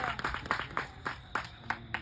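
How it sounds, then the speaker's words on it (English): A comedy roast audience clapping for a guest: a short burst of scattered applause, loose and uneven, with voices and cheering mixed in. "Big round of applause for Dan, huh?"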